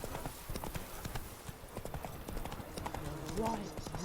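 Roach, Geralt's horse in The Witcher 3, clip-clops along in steady hoofbeats under continuous game sound and a voice, ending with a short whinny.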